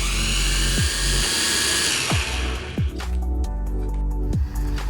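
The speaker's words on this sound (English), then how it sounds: "To start up the motors, pull both joysticks out." An SG106 budget 4K drone's motors start up and run, a loud continuous high-pitched whine and buzz that shifts in pitch, with several sharp clicks or bumps as it revs.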